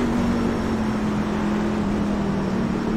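Race car engines in the iRacing sim racing game, a steady droning hum with a sustained low-pitched tone, holding a constant level without obvious revving or passes.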